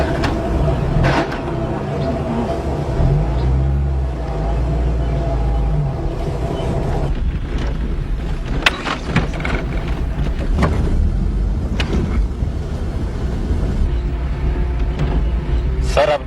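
A car engine rumbles loudly and revs, a heavy low drone with swelling surges and a few sharp knocks, while voices sound faintly in the background.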